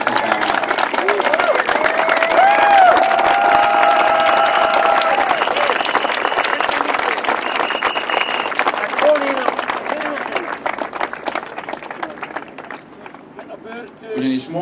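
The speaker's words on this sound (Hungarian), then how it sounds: "szeretnék kérni egy tapsot" Crowd applause at a street demonstration for housing rights, sustained clapping and some cheering that holds steady before fading out, with voices over it.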